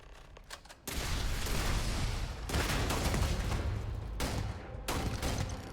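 Sustained gunfire from a Starfield firefight, dense overlapping shots forming a loud continuous barrage with brief pauses between bursts.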